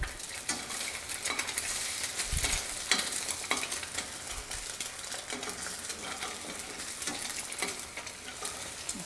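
An egg scrambled in a pan for Thai-style fried rice, a steady broadband sizzle with intermittent scraping and clinking of a utensil against the pan throughout.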